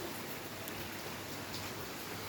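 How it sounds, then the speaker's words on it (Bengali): Heavy rain falls steadily on a flooded street, a dense even hiss at a distance with no distinct drops, faint and unbroken. "কত বৃষ্টি হচ্ছে"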